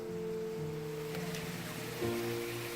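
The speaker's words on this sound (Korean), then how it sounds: "시원한 물소리가 입구에서부터 들려오니" A steady, full rush of flowing water fills the background inside a greenhouse at the Los Angeles County Arboretum and Botanic Garden, constant and close, with faint tonal sounds mixed in.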